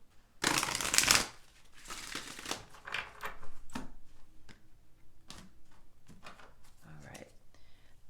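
A deck of Wisdom of the Oracle cards is shuffled close by, opening with a loud riffling burst, then softer repeated shuffles and card flicks, with a low voice faintly present.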